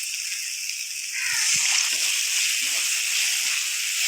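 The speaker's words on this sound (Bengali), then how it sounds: "অল্প জল দিয়ে দিলাম" A little water poured into spice masala frying in a pan while making a duck egg curry, a steady close sizzling hiss that swells as the liquid goes in, with faint stirring touches.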